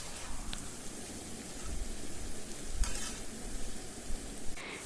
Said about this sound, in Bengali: এবার ভালোভাবে নাড়াচাড়া করে ঝিঙেটা একটু ভাজা হবে।